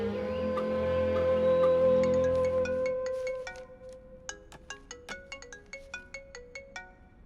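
A phone ringtone plays: a sustained electronic tone for about three seconds, then a quick series of bright, regularly pulsing beeps, fairly clear with no talking.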